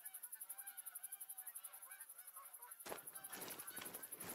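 Flock of geese honking overhead in the hunting video game theHunter: Call of the Wild, a steady chorus of calls joined partway through by louder, denser honking, with a rhythmic pulsing tone running throughout.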